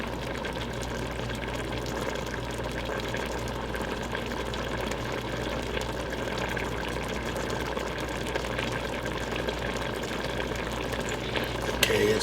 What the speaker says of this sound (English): Okay, it's bubbling.